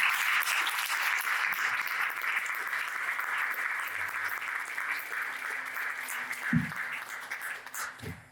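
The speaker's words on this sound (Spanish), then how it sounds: "Vamos a darle un fuerte aplauso al Señor" Steady applause from a crowd, dense clapping that holds throughout with a few low thumps near the end.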